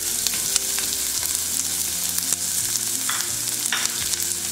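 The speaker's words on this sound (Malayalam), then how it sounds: "ഇഞ്ചി, പച്ചമുളക് ഇത്രയും ചേർത്ത് വഴറ്റിയെടുക്കാം." Onion, curry leaves and garlic sauté in hot oil with fenugreek, crackling steadily up close, with frequent clinks and scrapes of stirring and occasional sharp pops.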